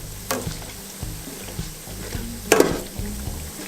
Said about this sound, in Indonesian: Nah, ini digoreng sambil dibalik-balik ya